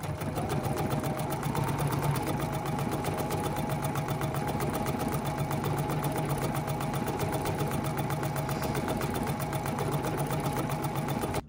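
A sewing machine runs steadily, stitching a decorative stitch on paper pages for a handmade book, with a continuous even whir and rapid needle rhythm throughout and no voices.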